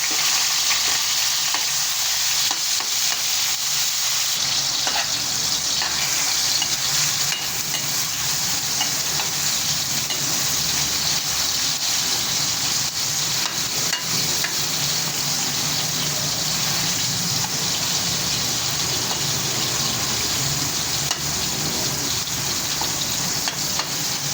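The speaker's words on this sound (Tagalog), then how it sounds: "Igisa ko na po ang kamatis." Tomatoes sizzle steadily in a hot pan for sinigang, a loud, continuous frying hiss with occasional stirring scrapes and no pauses throughout.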